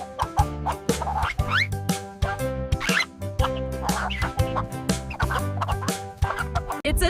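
A chicken gives a run of sharp, clucking calls that repeat over a steady, tonal background bed, with the calls coming in quick bursts throughout.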